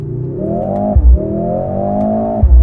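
A 2025 Mercedes-AMG GLC63s with a four-cylinder engine and nine-speed multi-plate clutch gearbox pulls away from a standstill in manual mode. The engine note climbs steadily, drops sharply at two quick upshifts, then climbs again, loud and close inside the cabin.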